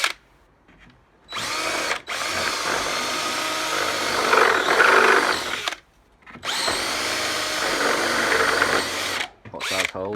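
Power drill boring holes with precision bits through a jig, two long steady whining runs separated by brief pauses, loud and close.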